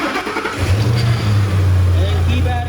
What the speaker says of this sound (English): go ahead and start the vehicle.